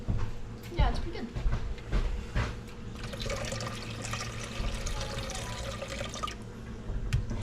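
Bottled water pours steadily into a container of fish brine being readied for the smoker, a continuous splashing stream with some clinks and handling noise around it.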